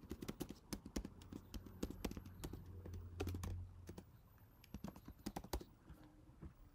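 Computer keyboard typing, quick irregular bursts of key clicks with short pauses, fairly close and clear with no voices over it.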